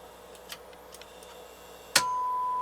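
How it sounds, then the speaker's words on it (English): A single sharp relay click inside a Hitachi SR-2004 stereo receiver under restoration, preceded by a few faint ticks, followed by a steady electrical tone in a quiet room. "these other two relays are not clicking in"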